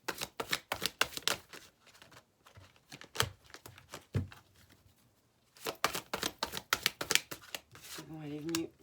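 Tarot cards are shuffled and drawn during a weekly reading, giving quick bursts of crisp riffling flutter in two clusters separated by a pause, close and clear, with a brief voiced sound at the end.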